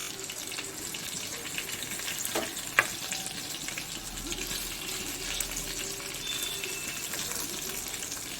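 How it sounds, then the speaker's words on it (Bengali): Hilsa fish frying in hot oil gives a steady, loud sizzle and crackle that runs unbroken throughout, with one brief sharp clink near the middle and no voices. "মাছটা ভাজা হয়ে গেছে, এবার তুলে নেব।"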